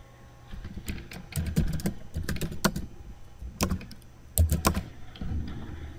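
Rapid clicking of computer keyboard keys while commands are entered in a terminal, heard up close as irregular bursts of taps with short pauses between them.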